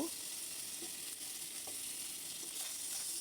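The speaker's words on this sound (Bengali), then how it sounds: "মাছগুলোকে একটু ভালো করে ভেজে নিব, একটু লাল লাল করে" Fish pieces, including large heads, fry in hot oil in a frying pan for a cauliflower fish curry. A soft, steady sizzle hisses throughout with a few faint stirring knocks, and no one speaks.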